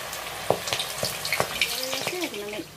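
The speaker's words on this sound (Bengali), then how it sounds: "তেলটা আমার গরম হয়ে গেছে, আমি তেলের মধ্যে দিয়ে দিচ্ছি" Battered chingri shutki envelopes made with dried shrimp go into hot oil and set off soft crackling pops and bubbling, close and moderately quiet, with a few sharp spatters near the start.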